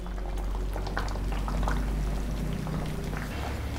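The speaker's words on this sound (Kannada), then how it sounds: "ಸಾಕು ಚೆನ್ನಾಗಿ ಕುದಿ ಬರ್ತಾ ಇದೆ" Vegetable sambar with fresh field beans comes to a vigorous boil in a pot, bubbling and gurgling continuously and close up, with a steady low rumble underneath and no talking.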